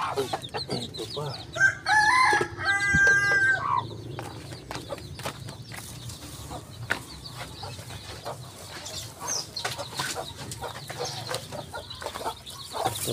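A rooster crows loudly nearby while native chickens on a farm cluck and chatter around it, with more scattered clucking continuing afterward.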